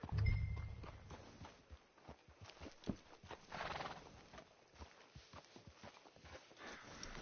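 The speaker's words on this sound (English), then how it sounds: "Hitch your horse up here." A horse in the Red Dead Redemption 2 video game clops along with repeated hoof beats and lets out a whinny near the start, while quiet talk runs underneath.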